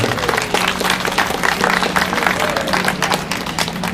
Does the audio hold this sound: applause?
yes